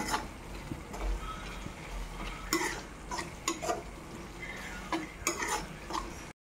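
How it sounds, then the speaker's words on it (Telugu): Ginger garlic paste frying in a pan while it is stirred, with a soft continuous sizzle under repeated scraping clinks of a spoon against the metal pan, close and with no talking. "అల్లం వెల్లుల్లి పేస్ట్ వేగేదాకా కలుపుకోవాలి."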